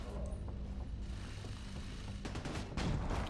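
Shotgun fire in The Division 2 gives heavy, booming blasts, a couple of close, punchy shots over a rumbling game backdrop.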